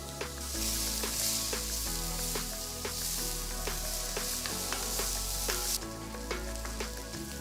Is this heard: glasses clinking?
no